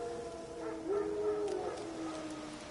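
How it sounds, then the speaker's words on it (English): Wild dogs howl in The Witcher 3: a few rising and falling wavering howls, with one stronger, steadier howl in the middle, heard fairly close over a quiet ambient game background. "No. Wild dogs. Yes. More dangerous than wolves."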